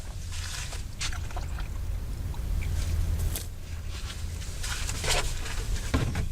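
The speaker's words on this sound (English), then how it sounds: "I'm gonna rinse this off a little bit" Water rinses off a film developing container at an outdoor desert darkroom, a steady, fairly loud rush and splatter of running water over the whole stretch, with no talking.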